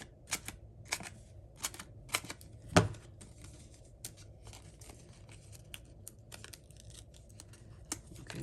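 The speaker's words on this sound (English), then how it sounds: "Let me just cut them up into smaller bits." Scissors cutting a paper sheet into small pieces for a handmade card: sharp, separate snips and crisp paper rustles at irregular intervals, close and fairly quiet.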